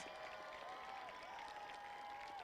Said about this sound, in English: please, students, please give them a round of applause